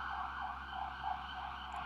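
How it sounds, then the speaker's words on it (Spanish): An emergency siren wails outside, a muffled, steady howl rising and falling behind a low background rumble, heard from indoors with no voices. "perdóneme por la sirena que está sonando ahí afuera"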